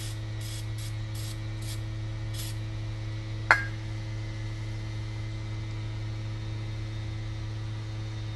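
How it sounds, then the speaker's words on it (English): WD-40 lubricant sprayed during a Dana 44 axle job on a K5 Blazer, several short hissing bursts close by over a steady hum, then a single sharp metallic click. "Got a little more WD here."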